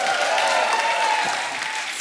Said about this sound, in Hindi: एक बार जोरदार ताली हो जाए मेरी.